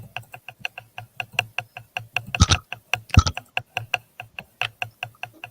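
Steady rapid keystrokes on a computer keyboard, a clear rhythm of close, crisp taps with two brief louder bursts of clatter in the middle.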